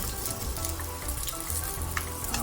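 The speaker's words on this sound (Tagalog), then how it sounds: "Lagyan natin ng kaunting mantika para sa pagigisa natin ng bawang at sibuyas." Garlic and onion sizzling in a little cooking oil in a pan, a steady close crackle and hiss with scattered pops, heard alone without talking.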